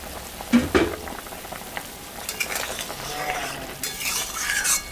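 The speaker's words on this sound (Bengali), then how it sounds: "ঝোলটা ফুটে গেছে, এখন আমি মাছটা দিয়ে দেব" Fish curry broth bubbles and simmers in a pot, a close, moderately loud seething with intermittent utensil clinks and stirring noises.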